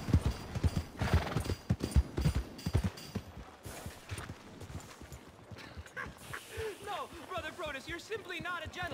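A horse trots in the Red Dead Redemption 2 video game, its clip-clop hoofbeats in a quick rhythm alongside a neigh, with a voice speaking over parts of the sequence.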